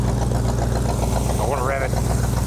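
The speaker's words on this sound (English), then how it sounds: "Just let it sit here and idle for a minute, see what happens." A 1965 Ford Mustang that sat abandoned in a junkyard for 30 years idles with a steady low, throbbing rumble close by, and someone talks briefly over the engine.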